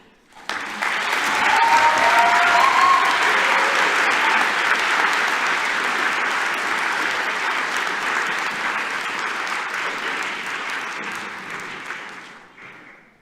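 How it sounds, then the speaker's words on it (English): Sustained applause from a large crowd at a graduation ceremony, loud and steady, swelling early and slowly fading out near the end. "Another huge round of applause for Steph, please, everybody."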